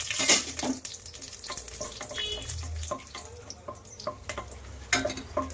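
Whole spices and cashews frying in ghee and oil for coconut-milk kushka, a steady close sizzle with scattered clinks and stirring scrapes, no talking.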